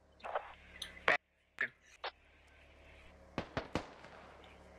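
Gunfire in the video game SquadOps: a handful of sharp, distant cracks arrive in two small bursts, with quiet pauses between them.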